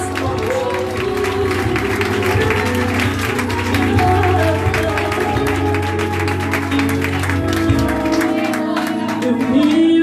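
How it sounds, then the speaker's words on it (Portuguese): A church congregation claps and cheers together, steady applause filling the room over music and a voice, carrying on for about ten seconds. "Dê uma salva de palmas para Jesus nessa noite."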